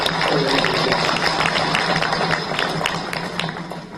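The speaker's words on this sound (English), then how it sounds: "I would like to give a big round of applause and thanks to all the audience here" An audience applauds after a closing speech, a dense, steady wash of clapping that holds for several seconds and slowly fades toward the end.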